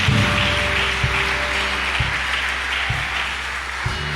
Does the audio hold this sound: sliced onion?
no